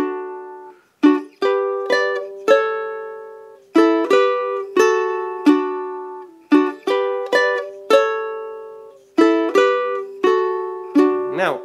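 A ukulele plays a song's solo slowly, with plucked notes and short strummed chords in a steady, deliberate rhythm, each ringing and decaying cleanly.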